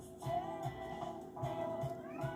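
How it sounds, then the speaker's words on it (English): A pet cat meows repeatedly indoors, drawn-out plaintive calls in two close bursts, faint and alone with no speech over them. "my cat is being silly again"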